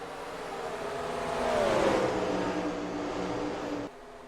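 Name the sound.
race cars accelerating at Watkins Glen restart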